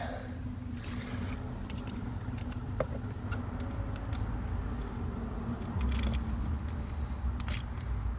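Car ignition keys jangle and clink in short scattered bursts close by, metallic and fairly quiet over a low steady rumble, during work on an ignition switch.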